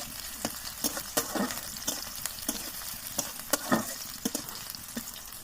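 Chopped onions fry in a pan over a clay mud stove, a steady soft sizzle broken by repeated sharp scraping stirs of a utensil against the pan, close and alone with no talk.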